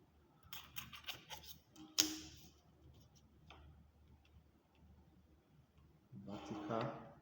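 A pencil rasps out vertical lines on drawing paper, a few short scratchy strokes and light taps with quiet pauses between them, close and faint.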